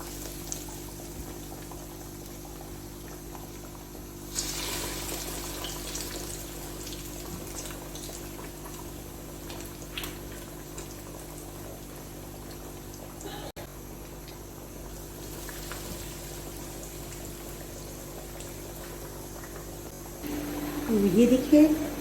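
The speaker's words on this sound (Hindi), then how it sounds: "इसको अब मैं फ्राई करूँगी। तो अब मैं इसमें डाल रही हूँ, ऑयल गरम हो गया है" Chicken lollipops bubble in hot oil, giving a continuous frothy, boiling-like hiss that swells partway through and ends in a louder burst, with a voice in the background.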